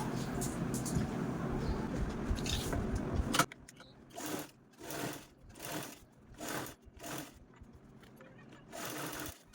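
Sewing machine stitching a cloth handbag: a long continuous whirring run, then several short stop-start bursts of stitching, close and moderately quiet.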